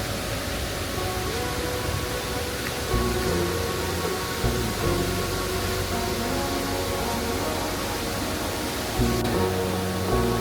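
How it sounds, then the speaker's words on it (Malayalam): A large waterfall in the forest at Vazhvanthol roars as a steady, dense wash of broadband noise, continuous and loud. A faint tonal hum and whine runs underneath. "ദേ അവിടെ വലിയൊരു വെള്ളച്ചാട്ടം കാണാം."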